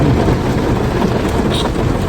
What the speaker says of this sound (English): We've got a rain shower that's coming through.